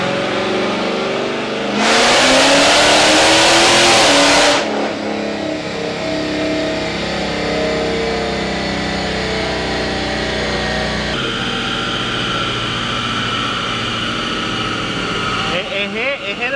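A Mopar car engine on a dyno roars through a loud, sharp rev that climbs for about three seconds, then settles into a long, steady, rumbling run. Speech is heard over the engine noise.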